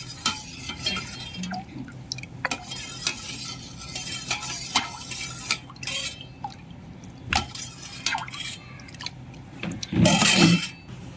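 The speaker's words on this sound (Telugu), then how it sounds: "ఇప్పుడు జున్నుపాలని అలాగే ఈ పాలు బాగా కలిసేలాగా కలుపుకోవాలి" A spoon stirs colostrum milk mixed with raw milk in a vessel to make junnu, giving a run of clinking, scraping strokes and soft liquid swishes, with one louder sloshing burst near the end.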